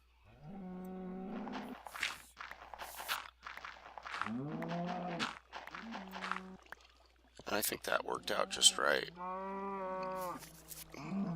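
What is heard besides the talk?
cows mooing in a video game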